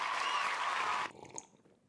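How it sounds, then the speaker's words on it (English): Short burst of clapping played as a sound effect at the start of a live stream, loud and dense for about a second before cutting off abruptly into near silence. "I hope this clapping sound doesn't get me like a copyright strike or whatever."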